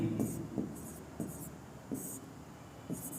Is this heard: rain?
no